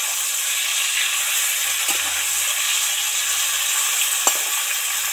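Tiger prawns fry in a pan with a loud, dense, continuous sizzle close by, with a couple of faint utensil taps.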